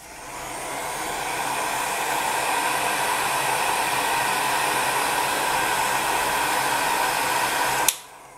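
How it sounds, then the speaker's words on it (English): A heat gun on medium setting, used to cure polymer clay, blows a steady loud rushing whoosh for about eight seconds before cutting off abruptly with a small click. "Then you will take your heat gun, set it to your medium setting,"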